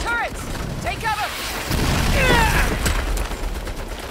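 Turret fire in the Saints Row video game comes as sharp bursts and booming impacts mixed with game effects, loud and close.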